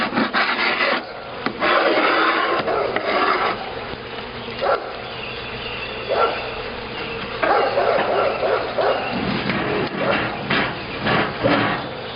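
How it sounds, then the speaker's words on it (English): A hive tool scrapes sticky propolis off a wooden beehive inner cover during an early spring inspection, giving loud, close, rasping strokes that come in repeated bursts with no talking. "Scrape all this propolis off."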